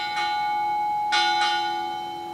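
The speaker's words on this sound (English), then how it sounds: "Sound. 4 bells." Four clanging strikes of a US Navy ship's bell at a retirement ceremony, spaced in pairs, ring out clearly with a sustained metallic hum lingering between and after them.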